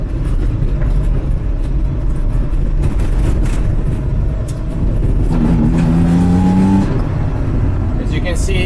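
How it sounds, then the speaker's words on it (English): A first-generation Mazda RX-7 SA22C rotary engine fitted with electronic fuel injection runs loud and close, holding a steady throttle before revving as the gas is pressed. Someone speaks over the engine. "we try to step on the gas."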